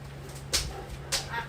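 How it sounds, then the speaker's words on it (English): A big, 65-pound dog lets out two short whimpering yips, each a brief sharp burst, over a steady low hum indoors. "So that is the big dog."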